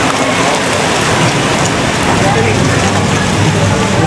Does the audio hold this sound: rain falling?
yes